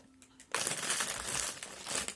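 A plastic packet of biscuits crinkles close by in a steady, continuous rustle after a brief quiet moment, with no talking.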